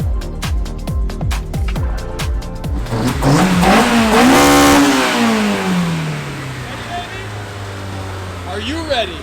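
A Honda-powered drift car engine idles with rapid pulsing, then revs hard, climbing to a loud peak and sliding back down to idle, with a brief second blip near the end; close and loud.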